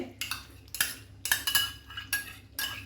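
A spoon clinks and scrapes against a pan of chicken Mumtaz gravy on a low gas flame as beaten curd goes in. About five sharp, close metallic knocks come in an uneven rhythm.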